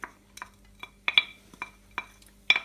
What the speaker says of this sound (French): Et je remue tout ça jusqu'à ce que cela soit bien translucide pour l'oignon et un peu fondu pour la carotte.